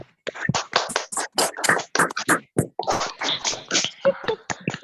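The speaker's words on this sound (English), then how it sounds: "So I request all the students and all participants to give a big clap wherever you are." Participants in an online workshop clap their hands together on request, producing a dense run of sharp, uneven claps from several people over a call, loud and continuous with no talking.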